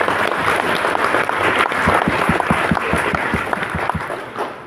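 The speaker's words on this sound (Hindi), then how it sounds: "राणा सर के लिए जोरदार तालियां।" Loud applause fills a room at a Delhi session for Amardeep Singh Rana, with many people clapping close by. It settles into a rhythmic, unified beat of claps before fading at the end.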